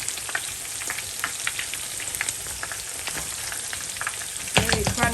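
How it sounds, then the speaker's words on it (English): Chicken wings fry in hot oil with a steady, dense sizzle and crackle, with occasional louder pops and a brief stir near the end, heard close up without any talking. "Continue to fry them all."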